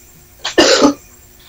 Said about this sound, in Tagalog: May umubo.